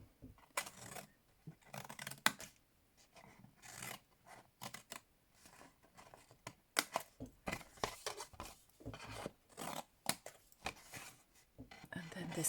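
Scissors cutting and trimming paper squares for a gift box, a sequence of short crisp snips and rustles at varied intervals, close and fairly quiet, with a voice talking intermittently.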